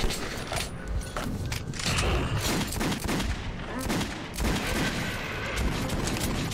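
Gunfire in the video game Metro 2033 rattles in dense, loud bursts of repeated shots that run almost continuously for several seconds, with no talk over it.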